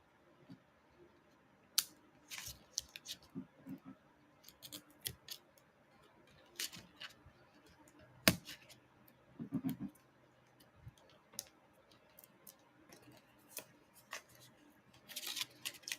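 Scissors snip at paper card-making materials in short, scattered cuts and clicks, fairly faint in a quiet room, with small handling sounds between the snips.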